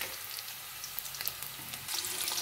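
Paneer frying in a pan, a close, steady sizzle and crackle that grows a bit louder at the end.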